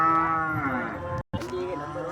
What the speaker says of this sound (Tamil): அறந்தாங்கி மாட்டுச்சந்தையில் மாடெல்லாம் கேரளாவுக்கு போகுது.